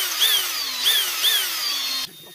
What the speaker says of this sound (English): put your drill in there and run it slowly backwards